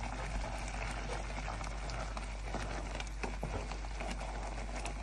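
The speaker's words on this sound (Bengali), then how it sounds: "এখন দেখেন চেরি টমেটো দেওয়ার পর কীভাবে বলক চলে আসছে।" A vegetarian paneer curry with cherry tomatoes bubbling at a boil, giving a steady, soft, close simmering crackle and popping that stays continuous and fairly quiet throughout.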